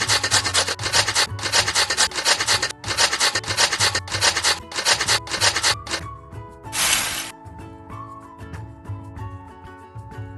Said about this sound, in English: We need to grate this.